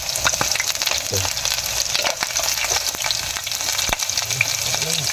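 Onions and aromatics fry in a pan, a loud dense sizzle with frequent clinks and scrapes of stirring, close up, with faint voices in the background.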